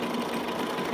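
A sewing machine running a triple stitch on denim, a continuous close, buzzing mechanical whir with a rapid, even needle rhythm, steady and fairly loud with no speech over it.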